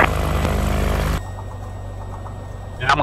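Loud droning propeller engine of a Stearman airplane with a throbbing pulse, dropping to a quieter idle hum before briefly revving again.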